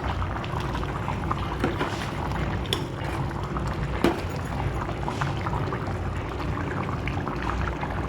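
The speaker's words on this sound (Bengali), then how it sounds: "এরপরে মাছগুলো একটা একটা করে দিয়ে দেবো।" Cauliflower and potato fish curry bubbling steadily in a pot as fish pieces go in one at a time, with a couple of soft plops over the continuous simmer.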